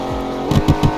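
A video game car engine in Roblox Greenville revs in short bursts, three or four quick pulses after a low idle rumble, close and loud.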